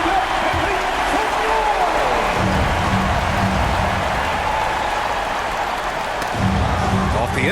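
Crowd noise fills an NBA basketball arena during an Oklahoma City Thunder timeout against the Indiana Pacers, a loud, dense, steady wash of cheering and clapping with a voice faintly audible inside it.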